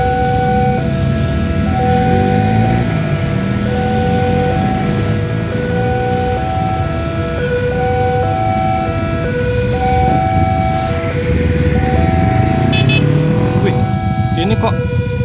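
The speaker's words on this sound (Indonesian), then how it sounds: "Ada kereta." A vintage KLB train nears level crossing JPL 8A in Kricak, with the crossing's alternating two-tone warning bell ringing steadily over a continuous low rumble of idling road vehicles and engine noise.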